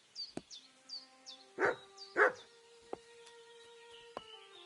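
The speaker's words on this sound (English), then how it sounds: "Call that dog to heel!" Dog in the medieval game Kingdom Come Deliverance 2 gives two loud bursts of barking in quick succession, with bird chirps and a few sharp clicks and taps around them and no talk.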